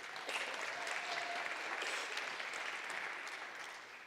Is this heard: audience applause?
yes